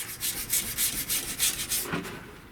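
A car door jamb is scuffed by hand before painting, with about eight quick, rhythmic rubbing strokes close up, then a last sharper scrape as the strokes fade.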